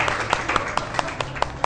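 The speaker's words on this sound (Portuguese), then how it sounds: "Palmas pra Vitória, gente." Students in a chemistry class clap in a steady, even rhythm, crisp regular hand strikes about four or five per second, close and moderately loud.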